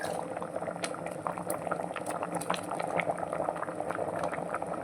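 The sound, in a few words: curry simmering on gas stove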